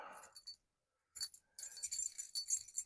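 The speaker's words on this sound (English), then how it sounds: "keys make noise." Vintage metal skeleton keys jangle close by in short bursts, bright metallic clinks and rattles separated by a brief silence, with no voices.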